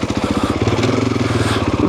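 A Husqvarna FE 501 four-stroke motorcycle chugging along in second gear at low revs, a loud steady thumping engine pulse close by with some mechanical clatter, no talking.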